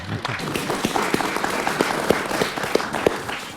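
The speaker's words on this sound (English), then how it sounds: "Round of applause for Mags." Audience applause at a live improv chat show, a dense crowd clapping steadily with several distinct sharp claps rising above the wash and a faint murmur beneath.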